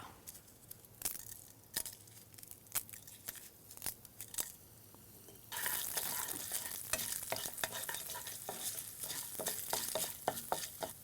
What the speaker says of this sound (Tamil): இதில் வந்து நல்லா ஹீட் பண்ணிவிட்டு உளுந்து, ஜீரகம், அப்புறம் வரமிளகா